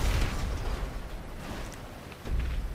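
Deep, rumbling grenade blasts in GTA V Online, fought among sandbags: one heavy boom at the start, a rolling low rumble in between, then a second boom near the end.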